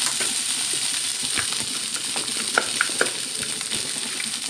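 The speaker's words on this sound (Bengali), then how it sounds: "সাবুদানাগুলো একদম ঝরঝরেভাবে ভাজতে হবে।" Sago pearls fry in a pan with a dense, steady sizzle and hiss, broken by light scraping and stirring clicks. The frying stays close and even throughout, with no one speaking.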